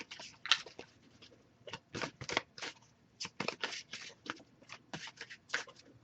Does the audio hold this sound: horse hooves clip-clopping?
no